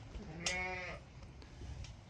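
A single ewe, ill and down, gives one wavering bleat close by, standing out briefly over a quiet farmyard background.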